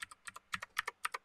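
Mechanical keyboard keys clicking in a quick, uneven rhythm, about a dozen crisp taps, close and fairly quiet with no talking.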